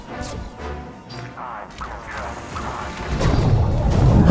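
Enemy ships exploding in the space shooter game Space Crew, a run of crunching blasts and whooshes that build louder toward the end, with no talk over them.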